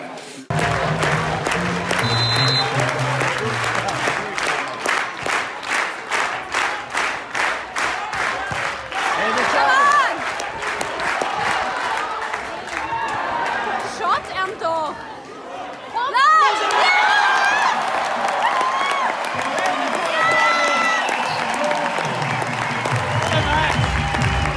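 Swiss fans at a game in Gstaad cheer, shout and applaud as a steady, loud crowd roar, with rhythmic clapping early on and voices rising and falling throughout.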